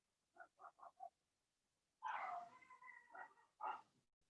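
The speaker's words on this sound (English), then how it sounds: "If you can hear our dog is barking," A household dog barks in a quiet room: a quick burst of four short barks, then a longer, drawn-out howling bark and one more sharp bark, fairly faint and alone.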